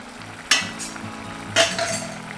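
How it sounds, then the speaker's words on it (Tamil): Grated coconut being stirred into a pumpkin stir-fry in a pan: two distinct scraping strokes of a spoon against the pan over a soft, steady sizzle, close up with no talk. "தேங்காய் துருவல் சேர்த்து நல்லா கலந்து விட்டுக்கலாம்."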